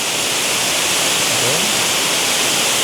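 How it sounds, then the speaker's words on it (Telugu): Sirimane waterfall near Sringeri, Karnataka, flowing with great force, heard as a dense, unbroken roar of rushing water that stays loud and even from start to finish. "ఇదే అండి మనకు శ్రీమాన్ వాటర్ ఫాల్స్"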